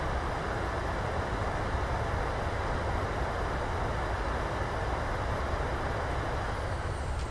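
Loud, steady broadband roar of a PMDG 737-800's engines in reverse thrust during landing rollout in Microsoft Flight Simulator, a continuous rushing rumble that holds at high level throughout.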